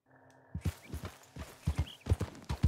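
Horse hooves clip-clop in an uneven walking rhythm in Red Dead Redemption 2, close and moderately quiet, starting after a brief near-silent moment with a faint low tone.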